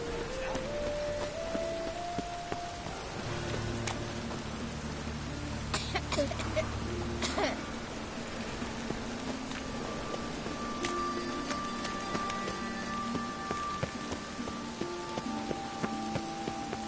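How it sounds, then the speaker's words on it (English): Rain falling in the video game Witcher 3 makes a steady, even hiss with scattered soft patters that continue without a break throughout. "Looks like rain."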